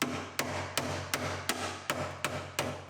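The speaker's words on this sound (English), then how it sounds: "We can knock our ends loose with the air chisel." Sharp, regular hammering impacts from an air chisel knocking spot-welded ends loose on a 2015 chassis for a 1965 Mustang, about eight metallic blows evenly spaced, each ringing briefly over a steady compressor-like drone.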